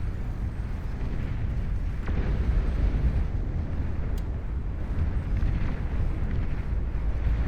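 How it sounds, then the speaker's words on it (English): Anti-air turrets shoot down bombers in the strategy video game Beyond All Reason, giving a loud, steady rumble of explosions and booming fire with occasional sharper bursts. "Every single bomber shot out of the air by the Legion anti-air turrets"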